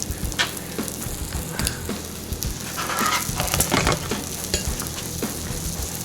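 Omelets sizzling on a Blackstone griddle as they are rolled up, a steady frying hiss with scraping and stirring clatter from a spatula throughout, fairly close and without talk.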